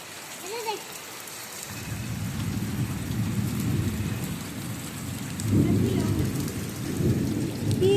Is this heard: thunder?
yes